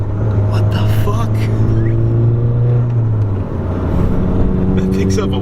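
A modified VW GTI MK6 engine holds a strong, close drone that steps up in pitch as the car accelerates, with faint voices underneath.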